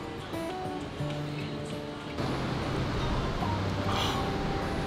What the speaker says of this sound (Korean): 파도 너무 멋있다